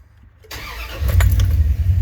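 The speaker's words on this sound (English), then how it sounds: "Fires right up. But then here's this really low idle." A 2000 Dodge Ram van, check engine light on, cranks and fires up quickly after a short quiet moment, then settles into a loud, rough, uneven low idle close by.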